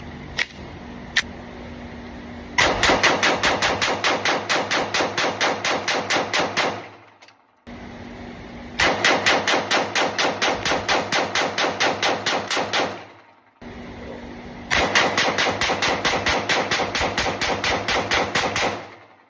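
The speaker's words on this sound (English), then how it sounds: "Here are some mag dumps." Walther PDP Full Size pistol fired in rapid mag dumps: three long, fast strings of loud, evenly spaced shots, each emptying the magazine, separated by short pauses, with no voices.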